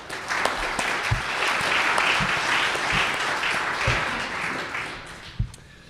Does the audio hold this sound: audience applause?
yes